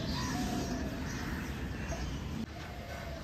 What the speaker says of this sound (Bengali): সকালবেলা এত পায়রাগুলো ওড়ে না, ভীষণ ভালো লাগে দেখতে